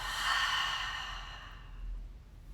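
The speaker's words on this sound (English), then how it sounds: "Exhale, let it out the mouth." A single slow exhale through the mouth during a calming breathing exercise, a soft breathy rush that is strongest at first and then fades out, close and quiet with no talking.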